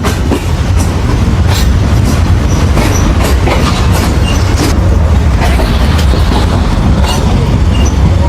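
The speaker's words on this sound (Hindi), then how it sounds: "तो हमारी ट्रेन का भी किसी ट्रेन के साथ क्रॉस भी पड़ा है।" Pakistan Railways train running at night, wheels rolling with steady clickety-clack under a continuous loud rumble, as another train passes alongside; no talk.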